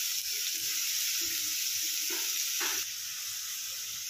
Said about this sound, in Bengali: বাঁধাকপি যে চটকে রেখেছিলাম সেটা তেলের মধ্যে দিয়ে দিলাম।